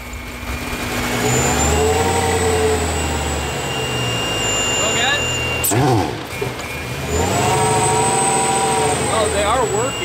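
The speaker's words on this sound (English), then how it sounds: "All right, Craig, fire it up whenever." A Mercedes C63 engine with a large prototype supercharger fitted runs at close range, a steady loud drone with rising and falling revs and a sharp burst midway, while voices talk over it.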